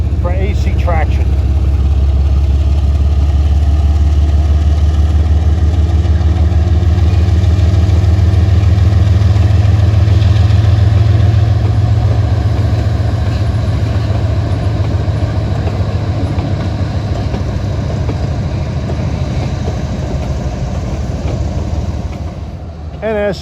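A Norfolk Southern train led by General Electric Evolution-series locomotives on the Pittsburgh Line gives off a loud, steady low diesel rumble that holds for a long stretch, then eases slightly in strength toward the end.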